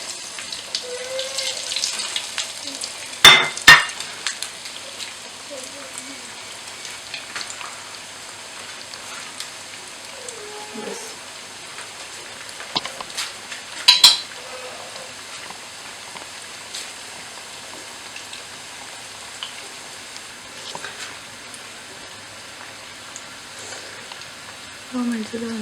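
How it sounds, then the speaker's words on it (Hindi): Chicken bread balls deep-fry in hot oil with a light, steady crackling sizzle. A few sharp spattering pops and clatters break in near the start and middle, and someone speaks briefly now and then. "ऑयल गरम हो चुका है, अब हम इसमें डाल देंगे चिकन ब्रेड बॉल्स"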